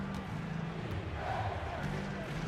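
Basketball arena crowd reacting after a clutch three-pointer, a broad continuous roar of many voices, fairly distant, mixed with a commentator talking over it.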